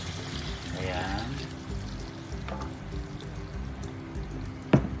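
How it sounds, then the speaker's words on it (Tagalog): Water is poured into a cooking pot while making pancit bihon, a steady splashing flow that runs throughout at moderate volume, with a sharp clunk near the end. "3 cups po ang nilagay ko na tubig."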